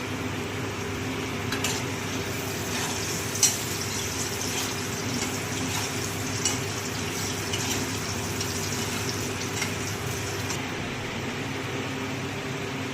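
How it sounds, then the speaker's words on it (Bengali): Fish curry simmering and boiling in a pot, a steady close bubbling hiss that holds evenly throughout with a few faint clinks, and no talking. "মাছের ঝোল ফুটছে"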